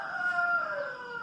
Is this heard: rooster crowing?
yes